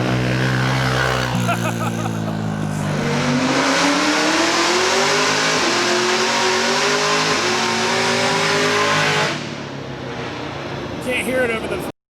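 A car engine on a dyno holds loud steady revs, then climbs in pitch through a long pull before cutting off abruptly, with quieter idle and shop noise afterward.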